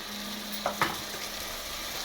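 A quarter cup of yogurt goes into onions and tomatoes cooking in oil with turmeric for egg biryani, giving a soft steady sizzle broken by a couple of brief clinks and stirring scrapes.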